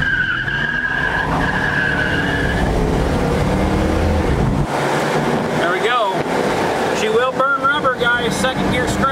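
A 1967 Dodge Coronet R/T accelerates hard, its engine roaring loud and close with rising revs and a squeal of tires. The pitch climbs, drops at a gear change, then climbs again, with a voice faintly underneath.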